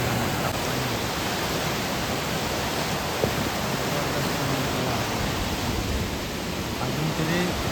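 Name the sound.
heavy rushing water flowing past rocks during monsoon rain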